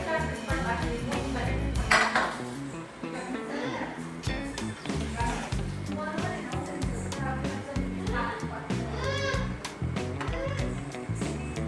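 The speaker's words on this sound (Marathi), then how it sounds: "आता ते भात परतायचा" Spatula scraping and clattering against a pan while stirring leftover cooked rice into homemade fried rice, a steady run of metallic clinks and scrapes throughout with people talking over it.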